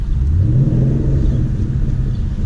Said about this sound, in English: I messed up there a little bit, switching it back to second